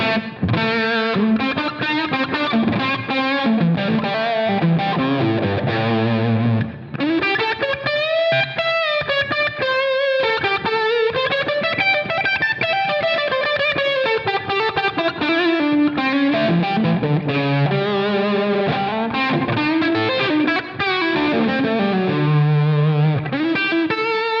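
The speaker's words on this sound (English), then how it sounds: "The long pre-delay allows the note to kind of come through before that reverb tail comes in." Distorted electric guitar through a Line 6 Helix plays a slow, sustained melodic line, each note blooming into a long, washy reverb tail with long pre-delay that fills the space between phrases.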